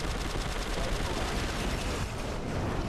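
Gunfire in the Prototype 2 video game, a dense continuous barrage of rapid shots and blasts that stays loud from start to finish.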